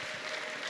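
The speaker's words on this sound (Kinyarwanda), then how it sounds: "muhe Imana amashyi n'inyembabazi." A church congregation applauds during an Easter service, a steady, moderately loud wash of clapping from many hands with no speech over it.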